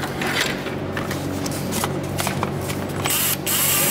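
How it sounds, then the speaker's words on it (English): A power drill whirs steadily and continuously, a close, sustained mechanical grinding with small shifts in pitch as it bores a hole in a Miata engine bay during an LS engine swap. "All right, so let's drill a hole."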